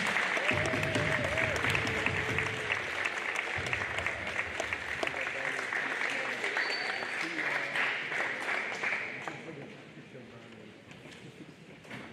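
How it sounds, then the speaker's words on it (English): A school recognition assembly crowd gives sustained applause for straight-A students, a dense steady clapping that runs loud for about nine seconds, then thins and fades toward the end. "let's have a round of applause for our straight A students."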